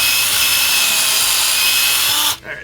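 A power drill bores into a rear suspension part on a 1968 Oldsmobile 442, a steady, loud, close whine that runs continuously, then cuts off near the end, leaving a brief quieter rustle.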